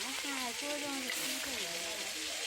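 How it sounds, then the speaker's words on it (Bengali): Frog meat sizzles steadily in hot oil with cumin, a dense hiss running the whole time while a voice talks over it. "তো গরম হওয়ার পরে এবার আমরা মাংসগুলো ছাড়াই দিতেছি।"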